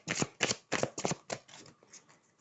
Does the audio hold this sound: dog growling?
no